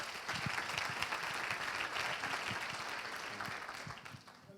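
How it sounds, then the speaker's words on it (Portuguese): A round of audience applause at a training event, many people clapping together in a steady, full wash that stays even before tapering off slightly at the end, with no talk over it. "Uma salva de palmas, faz favor."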